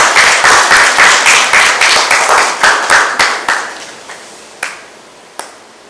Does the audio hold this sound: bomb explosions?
no